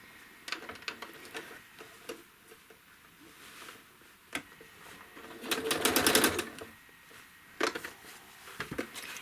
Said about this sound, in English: I'm going to go back all the way up to the top and stitch the last one the same way